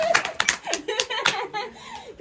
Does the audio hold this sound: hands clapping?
yes